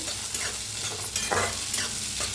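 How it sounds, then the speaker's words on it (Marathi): Sago and green chilies fry in hot oil for a fasting-day meal, a dense continuous sizzle with scraping stirs of a spoon through the pan, close and steady. "मिरच्या छान भाजल्या, त्यात टाकूया साबू तांदूळ, भाजून घेऊया"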